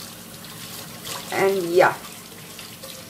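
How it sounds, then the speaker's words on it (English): Warm tap water running over a crab in a kitchen sink, a steady splashing stream that briefly swells louder midway, with someone speaking over it. "just wash the crab once again in the running warm water"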